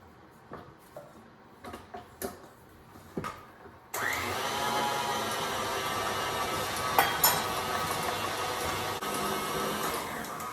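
A stand mixer kneads dough with a dough hook: after several sharp clinks and clatters from fitting the attachment, the motor starts and runs with a steady, close whir and occasional knocks.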